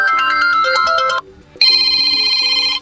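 A ringtone melody plays from a Sony Xperia 10 III smartphone, loud and close: a bright tonal phrase, a short pause, then a second sustained chiming phrase, with no talk over it.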